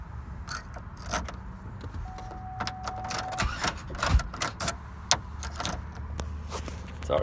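A factory code cut key turning in the ignition of a 2002 Chevy Impala, heard as small metallic clicks and key jingles with a sharper click partway through, close and fairly quiet.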